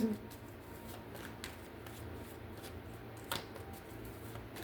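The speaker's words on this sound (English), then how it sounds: "Let me shuffle a couple of times." Tarot cards shuffled in quick, soft riffles and flicks, a few sharper snaps standing out, quiet and close with no voices.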